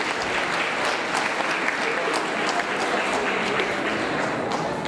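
Steady, dense applause from an audience at a children's charity afternoon in Hodonín, many hands clapping continuously for a prize winner at an even, full level throughout.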